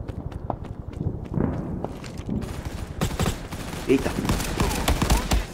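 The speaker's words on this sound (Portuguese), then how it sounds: "Ó, já tá rolando ali um confronto, hein? O tiroteio." A shootout in a 4v4 online shooter game produces rapid, crackling gunfire bursts and scattered shots. The shots are layered with game noise, and an excited commentator talks over them.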